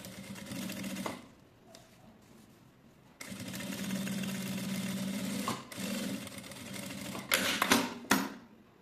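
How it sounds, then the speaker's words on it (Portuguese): Sewing machine topstitching a zipper pocket on a fabric box bag, running in steady bursts: a short stitch run, a pause, then a longer continuous stretch and a few quick final stitches. "agora eu já faço a costura aqui, ó, de vesponto"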